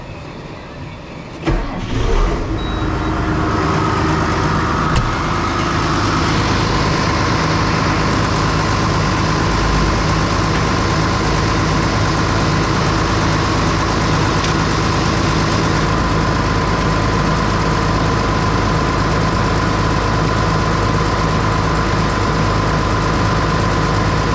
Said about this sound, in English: Right now we're starting up the John Deere.